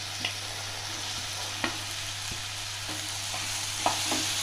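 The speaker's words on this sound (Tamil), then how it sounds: "எல்லாத்தையும் சேர்த்து நல்லா வதக்கி விட்டுக்கலாம்." Finely chopped carrots, beans and peas sauté in a pan for veg kurma, a steady close sizzle broken by occasional scraping stirs, with a low hum underneath.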